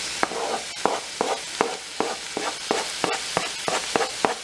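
Cottage pie filling is stirred in a pot after garlic is added, with a steady sizzle under rhythmic scraping strokes of a spoon against the pan, close and moderately loud.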